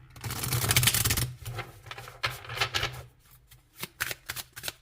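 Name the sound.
shuffling oracle cards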